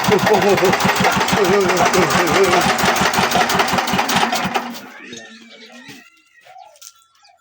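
A diesel engine on a Punjab village dairy farm chugs loudly with a steady, knocking beat, then cuts out abruptly, leaving faint background sounds.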